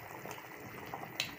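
Soft bubbling and simmering of ogbono and okra soup in a pot, oil and water boiling together, a low steady churn with a brief sharper hiss near the end.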